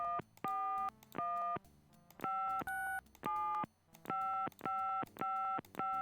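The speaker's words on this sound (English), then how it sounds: "we gotta turn the phone on" Telephone keypad tones in the Gabriel Knight: Sins of the Fathers adventure game, a sequence of about a dozen short, evenly paced beeps of varying pitch as a number is dialed, clear and alone.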